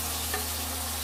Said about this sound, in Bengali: আরেকটা ফ্রাই প্যানে ভেন্ডি ভাজিটা হওয়ার জন্য দিয়েছিলাম পেঁয়াজের সাথে, এটা এখন আমি অ্যাড করে নিচ্ছি